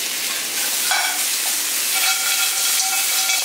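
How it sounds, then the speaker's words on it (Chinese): Lamb stir-frying in hot oil with galangal in a wok, a loud continuous sizzle with faint scraping from the stirring, no voices. "多翻炒几下，让羊肉吸收南姜的味道"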